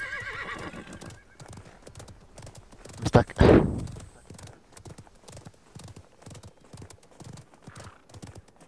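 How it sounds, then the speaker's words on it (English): A horse whinnies loudly in the middle amid clip-clopping hooves in the video game Realm Royale, with a person speaking briefly early on and game background sounds. "I gotta hear another horse somewhere"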